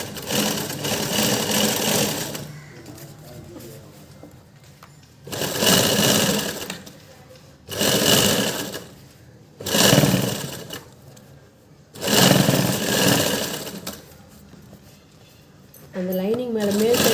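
A sewing machine stitches a blouse lining in five or six loud whirring runs of a few seconds each, separated by quieter pauses where someone talks.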